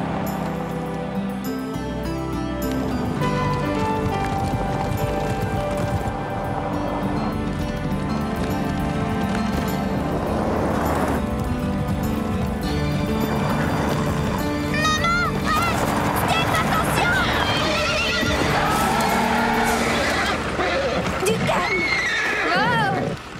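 Cartoon horses racing back to the stable gallop and whinny amid an animated scene, loud neighs rising over pounding hooves and music, with voices talking throughout.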